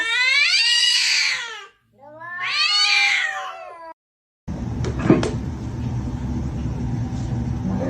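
A cat gives two long, drawn-out meows up close, one after the other with a short gap, followed by a burst of rougher household noise.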